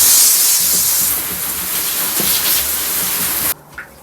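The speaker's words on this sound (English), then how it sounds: "We're gonna spray this down." Vapor blasting cabinet spraying a water and abrasive mix onto parts of an abandoned vintage Ford: a loud, steady hiss of spray that runs unbroken for about three and a half seconds, then cuts off abruptly, leaving near silence and one small clunk.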